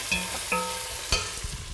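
A spoon knocks and scrapes through frozen mixed vegetables frying in a pan, three distinct clanks over a constant close sizzle, followed by a few softer stirring taps.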